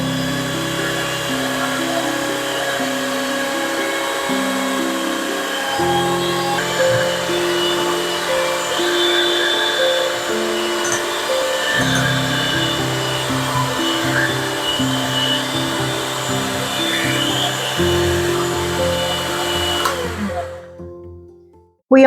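An electric hand mixer beats eggs and sugar together for Mexican sweet bread, giving a steady, close motor whir that shifts slightly in pitch as it runs. It continues without pause for about twenty seconds, then cuts off abruptly.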